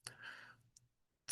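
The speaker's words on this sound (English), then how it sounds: "if we type in that number" A few sharp, quiet clicks of calculator keys being pressed to enter a number, spaced apart with short pauses and faint background in between.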